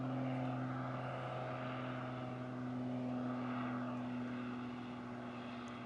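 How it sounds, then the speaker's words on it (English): A propeller airplane passes overhead near a coastal bird island, a steady droning engine hum with a low tonal buzz that holds evenly for several seconds and swells slightly, with no talking. "it's not a trash truck, it's a plane, which makes more sense"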